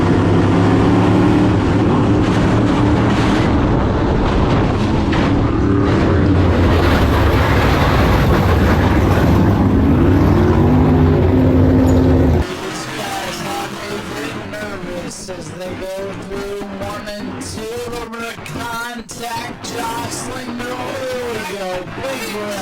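Race cars at New Smyrna in the PETRON World Series drone loudly and continuously around the track after a big wreck, then the scene changes to a busier mix with voices over lighter engine noise.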